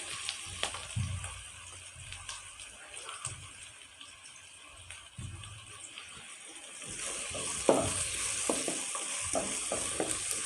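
Kaleji frying in a pan with onion and chili, a soft continuous sizzle with occasional stirring scrapes, faint and close, swelling louder in the later part.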